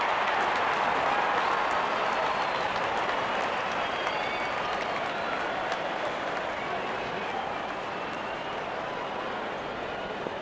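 A large crowd applauds and cheers steadily throughout at a India vs New Zealand one-day international cricket match, a dense, continuous roar of clapping with no break.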